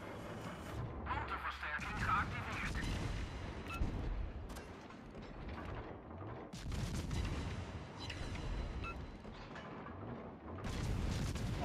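Ship artillery booms and rumbles through a World of Warships naval battle, with repeated heavy salvos and continuous mechanical noise layered under a player's voice.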